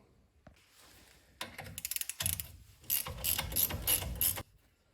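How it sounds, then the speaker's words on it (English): A ratchet cracks loose a 15 mm bolt on the upper control arm of a Mazda / Ford Ranger with a 2.3 engine. Rapid, close clicking comes in two dense bursts over a gritty mechanical rasp, with a short pause between them. "It's a 15 millimeter. I'm gonna crack that off and see if we can lift this upper control arm out."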